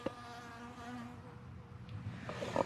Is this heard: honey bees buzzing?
yes